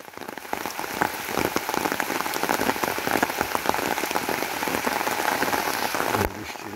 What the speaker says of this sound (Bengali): বৃষ্টির মধ্যে এখন দাঁড়িয়ে আছি ছাতা মাথায় দিয়ে